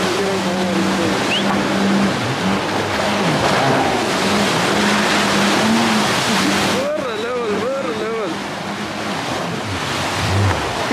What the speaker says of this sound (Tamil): இந்த லேக்கில் இப்படி போட் ரைட் போய் கொண்டிருக்கேன்